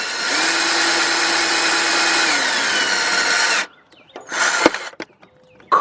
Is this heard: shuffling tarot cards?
no